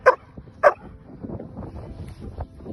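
A retired police dog gives two sharp, loud barks close by at the start, followed by quieter background rumble and faint movement.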